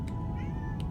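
A single loud house cat meow, brief and close, rising over a constant low hum with no talking.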